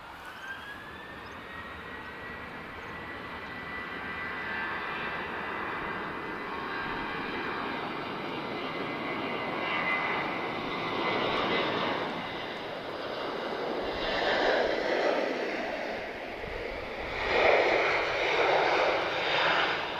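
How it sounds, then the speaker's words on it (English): A KLM Boeing 737-800 departs Lisbon Airport for Amsterdam, its jet engines a steady roar that swells and grows louder toward the end, heard alone. "So this is Kilo Lima 1696. She's off to Amsterdam."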